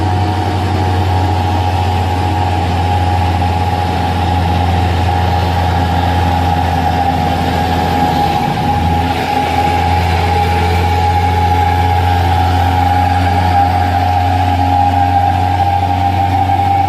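A Hino Trinton truck's heavy diesel engine drones steadily on a hill, loud and continuous with a deep low rumble and a strong mid-range tone throughout, no voices present.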